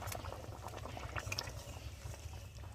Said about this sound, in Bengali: ঝোলটা কি সুন্দর টকবক করে ফুটছে।